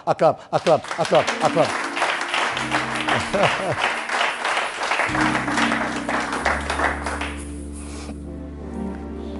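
A church congregation applauds during a French-language sermon, a dense burst of clapping that starts sharp and loud, then carries on under a sustained organ or keyboard chord and voices.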